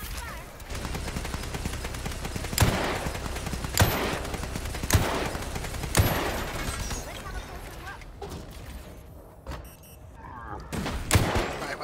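Gunfire in the video game Resident Evil Resistance, with a dense continuous crackle of rapid shots broken by a handful of sharper, louder reports roughly a second apart, steady and close throughout.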